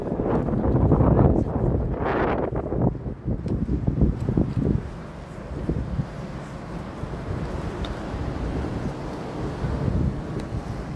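Wind buffets the microphone in loud, gusty rumbles, steady and close, with a soft background hiss and no one speaking.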